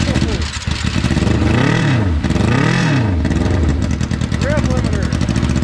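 A 600cc motorcycle engine from a donor bike for a street kart revs hard up to its rev limiter in two loud surging sweeps, bouncing at the top, with excited voices shouting over it.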